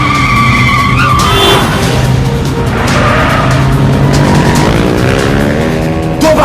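Motorbikes in a movie chase scene skid with loud screeching tyre squeals over roaring engines, the squeals sliding up and down in pitch through a dense, continuous action soundtrack.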